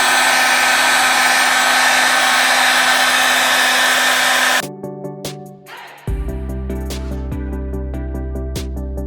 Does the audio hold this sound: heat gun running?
yes